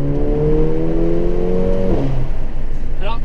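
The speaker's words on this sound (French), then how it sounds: "Regardez, petit rétrogradage les gars." A Mercedes A45 AMG's turbocharged four-cylinder revs up loudly and climbs in pitch after a downshift in a tunnel, then the note drops sharply and a brief higher whine follows.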